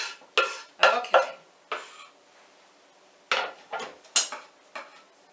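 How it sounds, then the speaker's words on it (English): Sauerkraut salad being stirred and mixed in a bowl, with about eight separate clinking, scraping strokes of a utensil against the dish, close and fairly quiet, spaced by short pauses. "And I'm going to stir those around. And mix it up."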